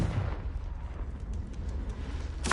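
A Confringo fire spell blast in the Hogwarts Legacy video game: a steady, rumbling low roar of fire and debris that runs throughout, ending in a sudden loud, bright crackling burst near the end. No voices.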